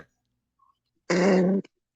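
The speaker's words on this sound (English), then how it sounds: "you're about to clear your throat and you're about to spit" A single short, rough throat-clearing rasp, close and fairly loud, followed by a tiny click and then silence.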